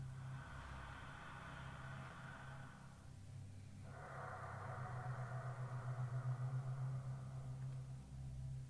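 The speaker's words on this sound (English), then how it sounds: "It's called Ujjayi breath. So it kind of sounds like you have a space helmet on." Ujjayi breathing with the throat slightly constricted, a steady airy hiss running through two long breaths with a short pause between, close and fairly soft over a low hum.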